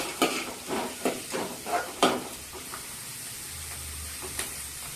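Thinly sliced onion frying in a pan for an amaranth and spinach fry, with a few soft stirring scrapes and bursts early on over a faint, steady sizzle.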